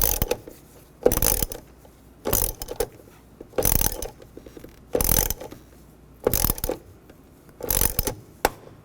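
A ratchet tightening torque strut engine mount bolts on a 2009-17 Chevy Traverse, heard as about seven separate bursts of quick, close clicking with short pauses between strokes and no talking.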